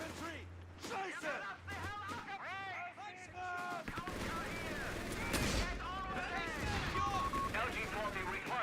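Rattling gunfire in the World War II strategy game Company of Heroes 3, dense volleys and bursts mixed with game voices and battlefield noise, loud and continuous across the whole stretch.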